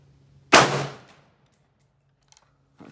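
A single loud, close XM16E1 rifle shot cracks out at a range, decaying quickly into quiet with only faint small handling noises afterward.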